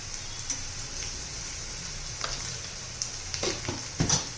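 Onion fries in hot oil as salt is added and stirred through for a dry spinach dish, a steady close sizzle broken by scattered scraping stirs and light ticks of the spoon against the pan.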